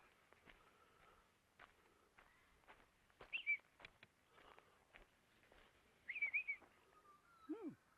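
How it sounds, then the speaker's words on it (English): Black cockatoos and parrots calling at a rural roadside stop near Bordertown, South Australia: a few loud, rising screeching calls in short bursts over faint ambient noise and light footsteps, with no speech. "Black cockies."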